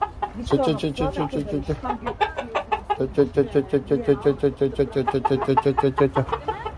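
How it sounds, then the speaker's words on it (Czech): Chickens cluck steadily in quick, rhythmic bursts close by, with a few overlapping calls and a voice talking underneath. "máme tady slepičky"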